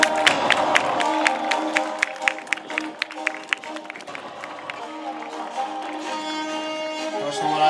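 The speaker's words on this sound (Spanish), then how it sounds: "Un aplauso para ellos" At a reenactment of the assault on Pointe du Hoc, a crowd applauds soldiers beside a 1941 Cadillac, with steady clapping and cheering under someone speaking over a loudspeaker, sharp claps standing out early.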